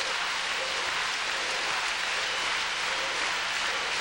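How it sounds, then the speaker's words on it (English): A Cuban crowd at a men's gymnastics team competition reacts in a steady, loud wash of cheering and applause that fills the arena without letup, with no clear speech on top. "And the crowd is reacting each time. Cuba, as you can hear in the background."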